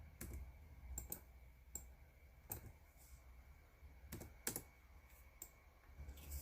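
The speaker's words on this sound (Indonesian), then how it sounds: "Jangan lupa menekan tombol shift pada keyboard" A computer keyboard is typed on quietly in short, irregular bursts, with sharp key clicks separated by pauses against faint background hiss.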